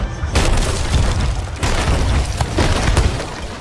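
Ship cannons fire in a Sea of Thieves arena battle, with heavy booming blasts rolling one after another at loud, close range over a rumbling background.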